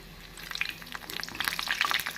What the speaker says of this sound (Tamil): கடாயில் எண்ணெய் நன்கு காயவும் நாம் வடையை போட்டு விடலாம்.